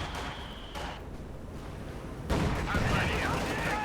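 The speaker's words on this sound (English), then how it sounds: "So they're finding another incendiary barrage" An incendiary artillery barrage from the WWII strategy game Company of Heroes 2 brings a burst of loud battle noise, muffled blasts at first and then a heavier rumbling impact partway through, with a commentator's voice over it.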